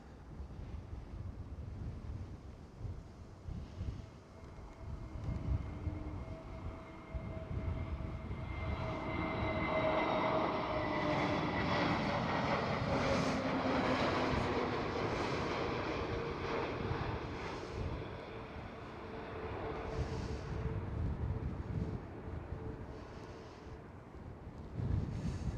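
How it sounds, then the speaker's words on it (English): A Transavia Airbus A321neo at Schiphol roars past at a distance, its engine noise swelling to a sustained whine and rumble and then fading, with gusty wind buffeting the microphone throughout. "Transavia Airbus A321neo."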